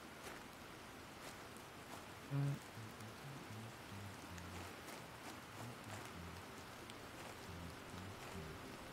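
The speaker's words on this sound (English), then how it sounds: "It's raining again." Steady, soft rain in the video game Planet Crafter patters continuously, a broad hiss of drops with no let-up, joined briefly by a low tonal blip partway through.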